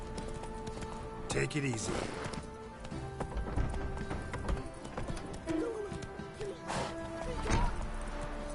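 Roach, the horse in The Witcher 3, galloping with steady clip-clop hoofbeats at mid distance, mixed with game ambience while someone speaks over it.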